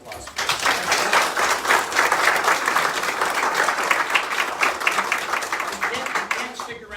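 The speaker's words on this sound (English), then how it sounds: "I want everybody to give my friend Matt a round of applause." Business class audience at a Keller Williams wealth-building session claps for a friend, a lively round of applause with a crisp, fluttering rhythm of many hands, steady and fairly close, with voices mixed underneath.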